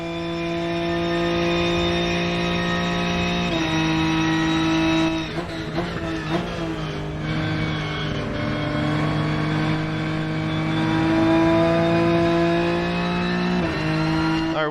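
A BMW race car at Monza in the Rennsport sim racing game, its engine holding a loud, steady harmonic drone with pitch shifts at gear changes and a choppy stretch of downshifts and braking midway before climbing again.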